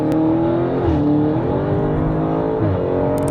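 Audi RS6 V8 with a modified exhaust revs hard and close, a loud, raspy, aggressive engine note rising and falling through several throttle blips without pause.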